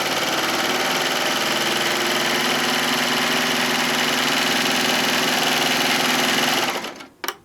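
A sewing machine runs steadily and loud, stitching all the way around the edge of a printed apron panel in one continuous drone before stopping abruptly near the end.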